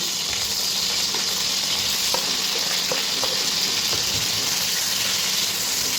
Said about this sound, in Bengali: কড়াইটা গরম হয়ে গেছে, পনিরটা দিয়ে দেবো ভাজার জন্য।